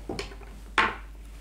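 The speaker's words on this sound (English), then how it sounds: "I'm just going to cut it on my chopping board here." Two short cuts of a sharp knife through an apple on a chopping board, a faint crisp slice followed by a louder, sharper crunch as the blade goes through, close up with no talking.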